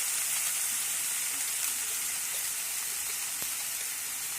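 Steady, fairly soft sizzle of beetroot and carrot frying in butter, a continuous hiss with a faint tap near the end and no voices.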